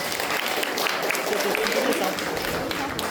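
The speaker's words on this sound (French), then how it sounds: "vous pouvez applaudir s'il vous plaît" Applause from the crowd at a cosplay contest and prize ceremony at an anime convention, a steady diffuse clapping that continues evenly for about three seconds, mixed with crowd noise and some voices.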